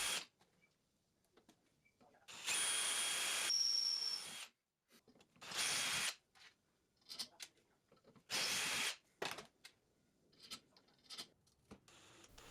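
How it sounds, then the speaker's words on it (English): A power drill bores and taps holes in a metal fork plate and slide for an actuator connection, running in several bursts of whirring grind separated by quiet gaps and small handling clicks. "Here now is the drilling and tapping of the holes at the fork plate and slide to make this connection."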